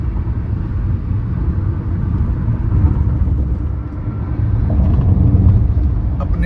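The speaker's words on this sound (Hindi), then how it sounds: "ये किया सोनेट, आज इसका total highway mileage test on AC" A Kia Sonet CNG car cruising on a highway with the air conditioning on, heard from inside the cabin as a steady, loud low-frequency road and engine rumble with no talking.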